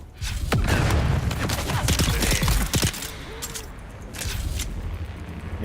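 Video game grenade blast amid a gunfight, heavy booming explosions and rapid gunfire bursts crowding the first three seconds, then lighter scattered shots and rumble trailing off.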